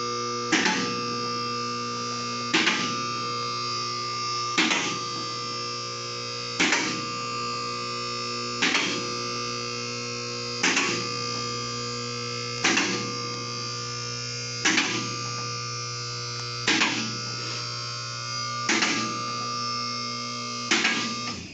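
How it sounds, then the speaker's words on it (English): Vehicle lift raising a 1973-87 Chevy C10/C20 pickup truck in a shop, a steady loud electric motor hum with a sharp clunk every two seconds or so as the lift climbs. "Alright, I raised it up on the lift."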